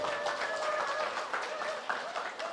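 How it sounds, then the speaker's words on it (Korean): An audience at an economics lecture breaks into applause, a short burst of many hands clapping, fairly close and uneven, with a few louder claps standing out. "박수 한번 주세요."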